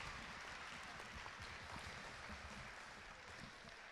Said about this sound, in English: give a round of applause to our special guest